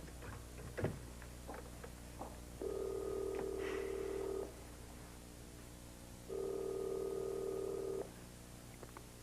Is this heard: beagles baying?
no